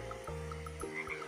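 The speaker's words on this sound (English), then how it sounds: "I've never seen a frog with two heads before, said Floppy." A frog gives a few deep, resonant croaks, one after another and close by, with no talk over them.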